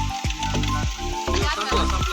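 Maggi noodles boil and sizzle in a pot on a stove at Malshej, a continuous close fizz broken by a few sharp taps, with no talk.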